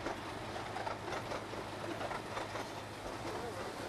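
A small park railway train near Scarborough's North Bay runs along its track beside a park lake, giving a steady close rumble and rattle of wheels with faint clickety-clack throughout, and no voices.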